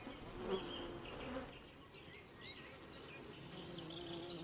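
Bees buzz around hawthorn flowers at the edge of a field, a faint steady hum with soft bird chirps in the background.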